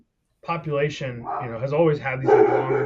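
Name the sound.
dogs barking at something outside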